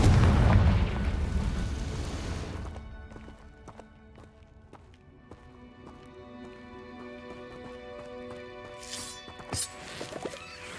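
In Hogwarts Legacy, the Confringo fire spell detonates with a loud, full-bodied blast that rolls on for about two seconds, then fades into a quieter ringing tail with scattered light impacts.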